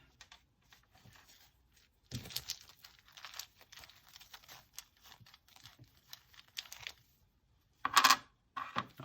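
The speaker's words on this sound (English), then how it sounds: "Let's go ahead and draw another rune here." Rune stones are drawn by hand from a pouch, making quiet rustling and light clicking as the stones shift, then a brief, louder clatter near the end, with no talking.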